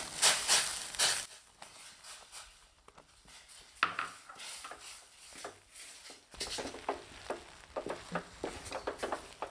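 Close scraping and stirring in a pot as rice flour is stirred into boiling water for kara kozhukattai, with soft rhythmic rubbing and occasional knocks of a spoon against the pan.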